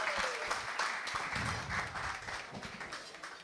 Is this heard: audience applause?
yes